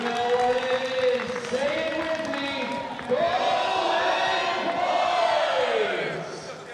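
Home crowd at a Seattle game in the West Division against Texas, a loud swelling roar of cheers and whoops that rises again midway and holds strongly before easing off at the end.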